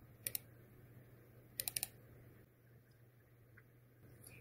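Short bursts of keystrokes on a computer keyboard as a command is typed: two quick taps, then a cluster of three or four, close and crisp over a low steady room hum.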